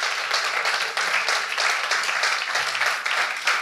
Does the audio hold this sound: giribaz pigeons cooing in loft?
no